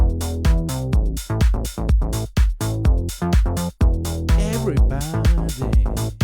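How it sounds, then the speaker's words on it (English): A full studio beat with an added bass line plays loud and continuous without speech: a punchy repeating drum groove, prominent low bass notes and layered melodic parts moving steadily for several seconds. "if we add some bass line, it sounds like this"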